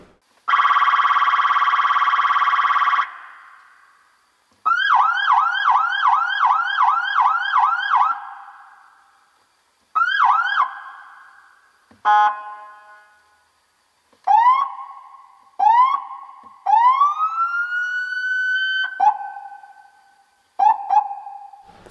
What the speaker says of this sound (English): So you have US police siren and also the European one.